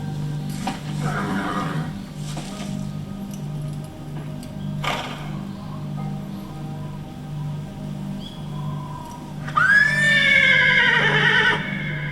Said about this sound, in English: That's the boss's horse.